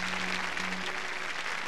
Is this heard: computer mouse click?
no